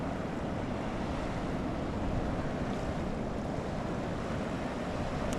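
Ocean waves at Diani Beach, Kenya, a constant washing roar of surf with some wind buffeting the microphone, steady and fairly loud with no voices.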